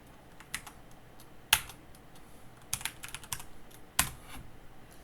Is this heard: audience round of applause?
no